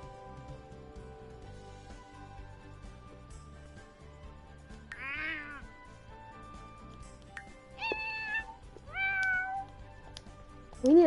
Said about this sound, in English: We need a talkative little cat in our life.